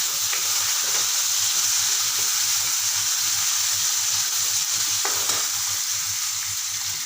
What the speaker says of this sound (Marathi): आता मी एक बारीक चिरलेला टोमॅटो घालणार आहे।